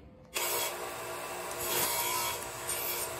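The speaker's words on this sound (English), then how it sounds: "I'm using this little belt sander, belt disc sander from Vevor" Small Vevor belt and disc sander deburring a window screen frame, a steady loud grinding whir that starts abruptly and runs continuously with slight swells as the metal frame is pressed against the abrasive.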